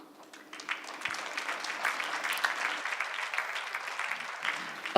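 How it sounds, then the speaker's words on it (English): Synodal assembly audience breaking into sustained applause after a vote closes, a broad crowd of clapping that swells in and holds steady, with faint voices underneath. "Yes, you have actually applauded"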